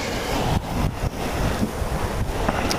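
Gusty wind buffets the microphone outdoors during a bee swarm capture, a steady broadband rush with brief dips, close and fairly loud throughout.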